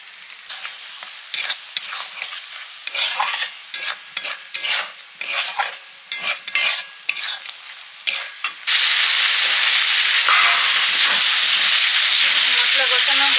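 Chilli powder and other spices fry in a pan, first with scraping stirring strokes and bursts of sizzle, then a loud, steady hiss of frying.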